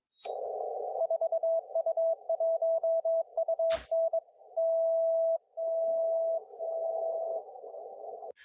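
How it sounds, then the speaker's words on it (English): An HF radio beacon keys a steady tone in Morse code, sending short dits and longer dahs in a clear rhythm. The code rides over a constant band of static hiss, with one sharp crackle partway through. "Here's what an HF beacon sounds like."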